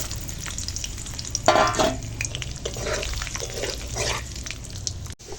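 Cashews and raisins frying in white oil mixed with ghee, a steady close sizzle with stirring clatter and a brief louder burst of bubbling partway through, no talking.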